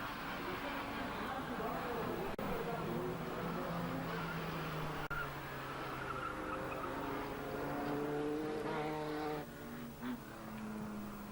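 Banger racing cars on a 1994 European race circuit at Warneton, a continuous roar of several engines with rising and falling revs and some tyre squeal, under steady commentary.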